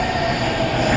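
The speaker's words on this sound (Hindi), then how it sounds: "इतनी भीड़ थी कि अभी मन्नी अंदर रह गया मेट्रो के" A crowded Delhi metro train rumbles steadily with rail noise and faint wheel squeal, close by and continuous with no talk.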